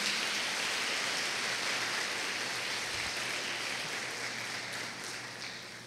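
A church congregation applauds in a sustained, dense patter of clapping that holds steady and then eases off slightly toward the end.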